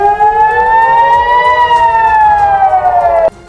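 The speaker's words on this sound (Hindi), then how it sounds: "और सायरन बजने लगे।" An air raid siren sounds in northern Israel, a loud, steady wailing tone that swells slightly upward and then sags before cutting off abruptly near the end, with no voices.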